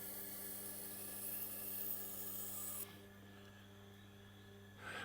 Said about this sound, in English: So I'm grinding it at about 1000 grit at the moment